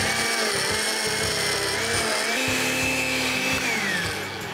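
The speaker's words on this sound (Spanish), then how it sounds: "Vamos a agregar los jitomates pelados a el vaso de la licuadora." Blender pureeing peeled tomatoes in its jar, a loud steady motor whir with shifting pitch as the contents churn, running continuously.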